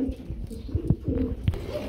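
A pair of large velvet shield pigeons at a bird seller's sells gives soft, low cooing, several short rounded pulses spaced through the clip, close by over a faint background hum.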